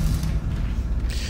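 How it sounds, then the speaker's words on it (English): A heavy mechanical door opening in the sci-fi horror video game Dead Space 2, a loud sustained grinding creak of gears and machinery ending in a hissing release, with no speech. "you just open this door."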